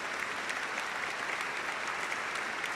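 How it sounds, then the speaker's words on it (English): Audience applause fills an awards ceremony hall, a steady dense wash of many hands clapping continuously at even loudness with no pauses. "A big round of applause for my husband"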